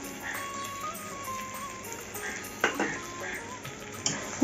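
Mutton curry with yogurt stirred in a pot, a spoon scraping and clinking against the metal over a soft sizzle of frying, close up with occasional sharper knocks.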